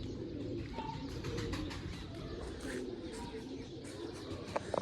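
Pigeons coo softly and continuously close by, layered low murmuring calls with faint chirps over a steady background.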